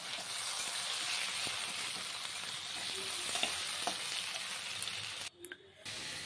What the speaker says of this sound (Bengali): এই যে ঢেঁড়স আলু ভাজা করবো